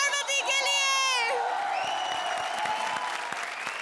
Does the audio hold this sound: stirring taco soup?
no